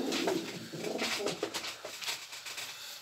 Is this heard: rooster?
no